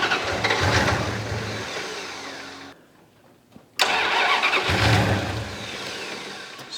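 Turbo V8 police car with custom exhaust and EFI cranks and catches, runs loud for a couple of seconds, dies into near silence, then fires again with a sharp burst and runs rough before fading.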